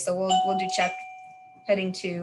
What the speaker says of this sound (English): Oh, that's the dog doorbell.